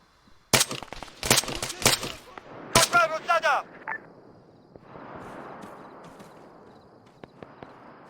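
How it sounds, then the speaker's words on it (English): Gunfire in the military shooter Arma 3: four sharp, loud shots at uneven intervals, followed by a short chirpy radio-like burst and then a low, steady rumble with faint clicks. "Shots were fired."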